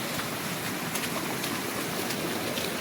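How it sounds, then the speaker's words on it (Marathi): Loud, steady roar of floodwater rushing through farm fields after a night of heavy rain, constant broadband noise without pauses, close and alone. "वाटाने एवढलं पाणी चालू आहे."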